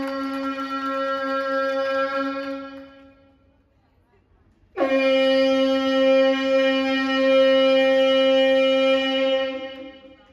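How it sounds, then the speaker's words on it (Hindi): Diesel train horn sounding at Bisauli, Badaun, as the signal drops: a loud, tonal blast of about four seconds fades out, then after a short pause a second, longer and strong blast follows. "सिग्नल डाउन हुआ और ड्राइवर ने कैसे हॉर्न दिया देखिए।"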